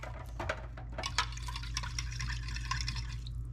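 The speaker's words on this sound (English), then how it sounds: "we're just gonna pour that down over top" Broth pours steadily over a pot roast in a slow cooker with splashing and gurgling, close and continuous for a few seconds over a low background hum.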